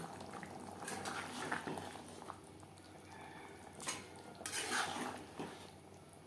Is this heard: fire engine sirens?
no